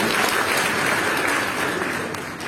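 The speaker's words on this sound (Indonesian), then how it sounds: "Tepuk tangan yang paling meriah." A church congregation gives hearty, sustained applause at a sermon, a dense even wash of clapping with no voice over it.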